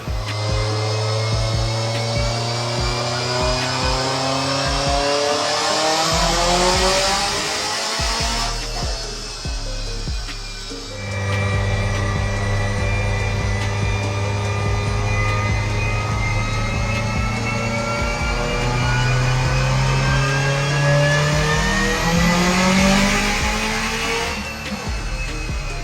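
A 2019 Subaru WRX STI with an Extreme Turbo Systems 6466 turbo, running E85 on a tune, revs hard through two long climbing pulls, its loud engine note rising in pitch, close and continuous with no talk.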